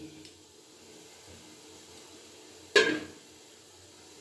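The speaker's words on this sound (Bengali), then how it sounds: "এবার ঢাকনাটা খুলে নিচ্ছি" A metal lid lifted off a pan holding set papad batter made from leftover rice starch water, giving one sharp clink and clatter, then a short fading rustle in a quiet kitchen.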